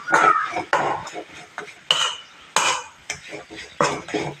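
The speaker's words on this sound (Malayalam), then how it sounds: "നന്നായിട്ട് ഇങ്ങനെ ഇളക്കുക" A moringa flower stir-fry being stirred in a pan, with clinking, scraping strokes of a spoon against metal in an irregular rhythm, close and fairly loud, with faint voice sounds between strokes.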